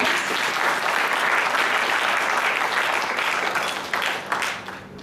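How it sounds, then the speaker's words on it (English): An audience at a Cassava Bread Initiative event in Nigeria breaks into a full, steady round of applause that stays loud for about five seconds and tapers slightly near the end. "Let's give them a round of applause."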